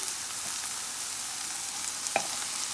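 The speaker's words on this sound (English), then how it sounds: "We're gonna add our spinach into the pan" Spinach hits a hot pan and sizzles steadily, a broad even hiss with a brief sharper crackle near the end, no voices.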